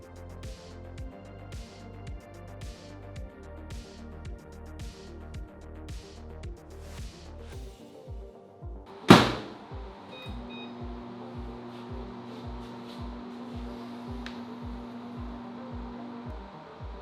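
A microwave oven runs on a portable Anchor power system, giving a steady low hum with a rhythmic pulsing throughout, broken by one sharp loud click or beep midway before the even hum carries on.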